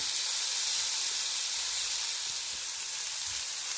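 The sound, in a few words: chicken breast sizzling in grill pan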